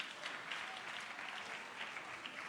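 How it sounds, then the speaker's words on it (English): A concert audience gives steady applause for a bishop, many hands clapping evenly at a distance and fairly faint, with no voices over it. "Let's clap for the bishop again."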